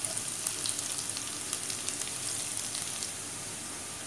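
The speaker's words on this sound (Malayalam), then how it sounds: "കടുക് നന്നായിട്ട് പൊട്ടി വരുന്നുണ്ട്." Mustard seeds spluttering in hot oil with chopped ginger and garlic frying, a close steady hiss studded with small rapid pops, fading slightly toward the end.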